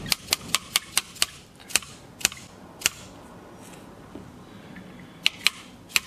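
A drift taps a pin into a Merkel RX Helix rifle, producing sharp metallic clicks in a quick run of about seven, then a few spaced taps, then a final brief pair, all close and crisp over quiet room noise.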